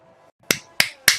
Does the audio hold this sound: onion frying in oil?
no